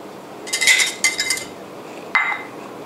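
A utensil clinks against a bowl while green tea powder is stirred in to dissolve, a few bright metallic taps in two quick bursts, then a single sharper clink, close and alone without talk.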